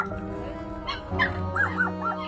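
Dogs whimpering and yelping at a dog farm burned out by a fire after a gas canister exploded at night, with rising whines and short yips over a steady low hum, fairly close and moderate in level.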